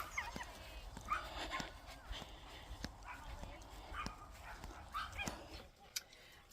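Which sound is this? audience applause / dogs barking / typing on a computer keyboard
dogs barking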